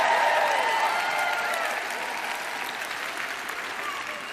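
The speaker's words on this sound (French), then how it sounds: "Je vous prie d'applaudir un peu plus fort, cela m'aidera." Audience applause at a teaching session swells loud at first and then settles into a steady, slightly softer stream of clapping, with a voice faintly audible underneath.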